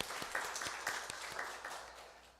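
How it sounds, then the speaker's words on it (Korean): Church congregation clapping to celebrate a student's birthday during a Sunday service, a short burst of soft, fairly distant applause with some individual claps standing out. "함께 박수하겠습니다."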